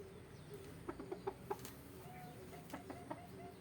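Chickens cluck faintly in the background, a quick run of short clucks followed by a few more scattered calls, over a quiet low outdoor rumble.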